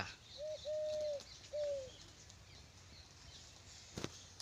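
A pigeon gives a few soft, low coos in a short sequence, then falls quiet against faint background noise, with a brief knock near the end.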